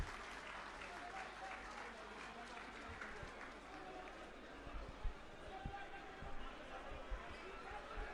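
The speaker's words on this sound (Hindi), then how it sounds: "आतिशी जी के लिए जोरदार तालियां।" A crowd at a political rally applauds for Atishi, loud and sustained clapping with scattered cheers and chatter mixed in, a few sharper thumps standing out over the steady wash of hands.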